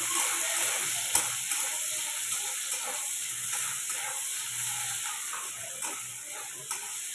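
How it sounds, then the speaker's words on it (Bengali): Onions fry in hot oil with a constant faint hiss, and occasional light clicks of a utensil against the pan rise through it. "তেলটা গরম হয়ে যাচ্ছে, পেঁয়াজ ভাজাটা দিয়ে দেবো।"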